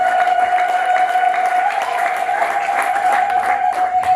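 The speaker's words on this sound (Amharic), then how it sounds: "እስቲ አጨብጭቡ ባካችሁ።" Congregation applauding during a church sermon, dense steady clapping throughout with a sustained tonal hum or organ note beneath.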